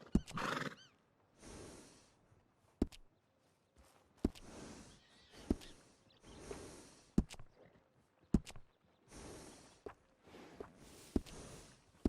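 A horse in the video game Red Dead Redemption 2 gives a sharp whinny at the start, then hooves thud and clop in irregular heavy steps with snorting breaths, close by, with no talking.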